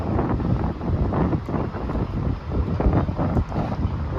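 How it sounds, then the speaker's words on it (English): Strong wind buffets the microphone in continuous gusts at a Tesla Model 3 charging stop, a rough low roar with no talking. "There's a bit windy here."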